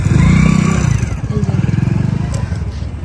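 A motorcycle rumbles past at a river ghat where boats land, its pulsing engine loud at first and then easing off as it moves away, with voices in the background.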